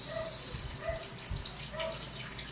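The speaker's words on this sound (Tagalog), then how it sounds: "Kuha tayo ng tubig guys para sabaw na" Running tap water streams steadily into a pot for sinigang soup in a home kitchen, a moderate, continuous rushing with light splashes, heard alone without talk.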